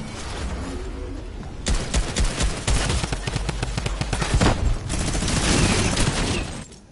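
Shotgun fire in the Roblox shooter Arsenal, a dense burst of rapid loud blasts starting partway in and continuing in a sustained volley over steady game background.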